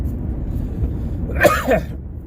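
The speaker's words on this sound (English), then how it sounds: "Hold on, I feel a sneeze coming." A single sharp sneeze bursts out close by over a low rumbling background, followed by a brief trailing exhale.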